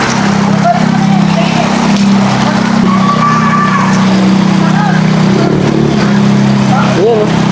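Motorcycles push through street flood water in the Philippines, with a steady loud engine drone and a faint splash of water, heard from inside a stuck delivery van as people talk over it.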